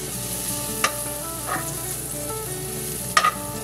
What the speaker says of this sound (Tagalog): Lalagyan ko muna siya ng butter.